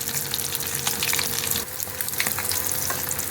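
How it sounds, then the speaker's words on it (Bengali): Amodi fish pakoras deep fry in hot oil with a dense, continuous sizzle and crackle, steady and close throughout, with no talking. "2 পিঠ একদম ডিপ ফ্রাই করে ভাজা হয়ে গেছে"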